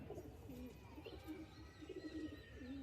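Soft, repeated cooing from young pigeons kept in a loft, a gentle sequence of low rolling calls heard up close with no talking.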